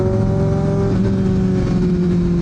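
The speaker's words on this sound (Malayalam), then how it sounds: "നമ്മൾ നേരത്തെ കേട്ട ശബ്ദം ഗിയർ ഡൗൺ ഷിഫ്റ്റ് ചെയ്യുന്നതിൻ്റെയാണ്" Superbike engine running at high revs with a steady tonal drone, pitch dipping slightly as the gear downshift and rev matching happen, loud and close throughout.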